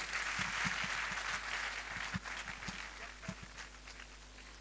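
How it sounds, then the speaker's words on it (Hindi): Audience applause at a Safe Shop Double Diamond celebration event in 2013, a sustained wash of clapping with scattered louder claps, somewhat distant and steady throughout. "जोरदार ताली मैडम यादव जी के लिए।"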